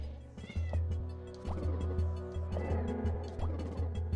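A pet cat meows several times in short, fairly close calls over a low, steady game soundtrack with a repeating rhythmic pulse.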